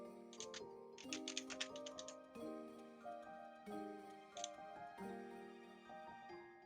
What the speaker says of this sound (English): I heard Clear Sarah typing